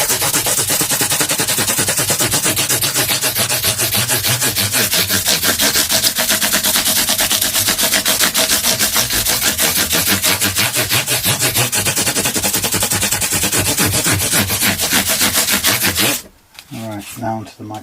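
An Ibanez Artcore guitar body is hand-sanded with 1200 grit paper in fast, rhythmic back-and-forth rasping strokes, loud and close. The strokes stop abruptly near the end.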